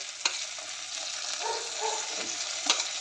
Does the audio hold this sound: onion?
yes